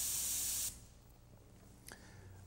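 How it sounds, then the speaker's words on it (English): An airbrush sprays chameleon paint in a short, bright hiss that stops abruptly, followed by quiet room tone and a faint click. "the chameleon paints can be shot through an airbrush just as simply as shot through an automotive spray gun"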